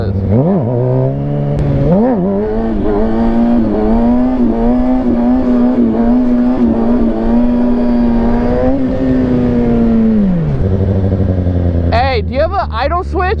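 A 450 dirt bike engine idles high with a steady, loud droning note that rises and falls through small revs before dropping lower near the end, and sharp revving blips follow. Voices talk over it.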